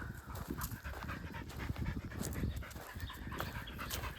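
A dog pants steadily and rapidly close by during an off-leash training session outdoors, a rough breathy rhythm with no talking.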